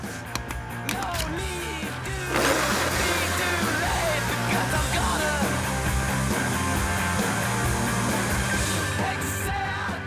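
Kitchen blender pureeing a potato and mushroom soup, a steady loud whirring drone that starts after a couple of seconds of clatter and runs continuously to the end.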